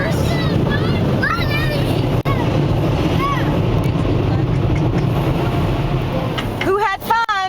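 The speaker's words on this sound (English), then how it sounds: "Those are the blowers." Car wash blowers roar as a loud, steady broadband rush that fills the whole clip, with children's voices calling faintly over it and a brief dip near the end.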